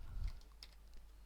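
Keys on a computer keyboard are tapped in a few quick, faint clicks amid low background hum.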